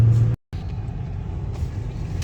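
A motor vehicle idles and rolls close by, its low engine rumble steady after a brief cut in the sound.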